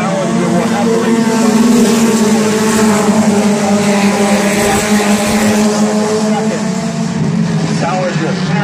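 Compact race cars roar around the Midvale Speedway oval in an October feature event, a loud, continuous blend of several engines holding steady throughout, with a race announcer talking over the pack.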